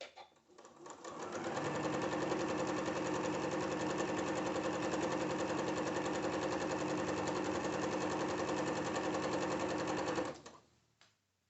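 A sewing machine fitted with a quarter-inch foot stitches batik quilt squares in one continuous rapid run of about nine seconds. It starts and stops cleanly, with no talking, and sounds close and steady.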